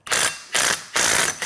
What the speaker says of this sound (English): This rattle gun's here to party.